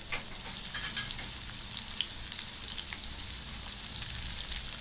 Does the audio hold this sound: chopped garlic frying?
yes